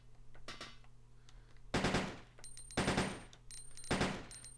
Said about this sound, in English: Yes, I am shooting at the missiles